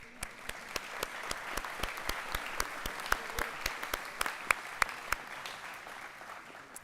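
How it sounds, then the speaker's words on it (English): A small group claps steadily at a Bridgton Academy commencement ceremony, with distinct individual claps rather than a roaring crowd. "We can clap to that."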